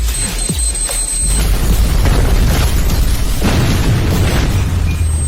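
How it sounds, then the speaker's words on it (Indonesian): Flight KD3494 explodes in a drama scene, a deep rumbling boom that swells and rolls on with crackling debris and low roar for several seconds, loud and close. "Penerbangan KD3494 meledak pukul 10 pagi."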